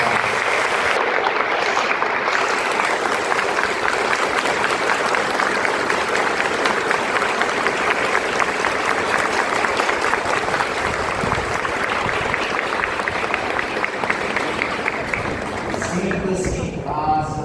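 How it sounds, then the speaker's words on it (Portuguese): Sustained, dense applause from a large church audience at an archbishop's pastoral visit, loud and steady for the whole stretch, with some crowd noise and voices near the end. "Eu queria pedir para ele uma calorosa salva de palmas."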